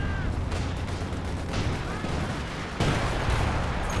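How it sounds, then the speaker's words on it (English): British base artillery barrage in Company of Heroes 2, a 2v2 match, with continuous rumbling shell impacts and gunfire that build into a louder burst near the end. "Some British base artillery coming down here"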